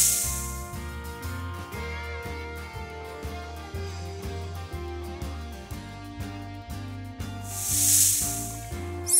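A snake gives two breathy hisses, one at the start and one near the end, over plucky cartoon-style backing music.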